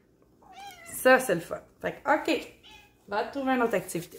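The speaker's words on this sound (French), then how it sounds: "Le chat qui veut faire partie de toutes les vidéos à maman." A house cat meows several times in a living room, close to the microphone and interleaved with someone talking in French.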